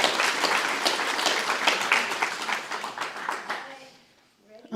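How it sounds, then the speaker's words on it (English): Audience applause at a guide dog graduation, brisk clapping from a modest crowd that tapers off and fades, followed by a voice starting to speak. "Let's give a round of applause and cheer Jim on."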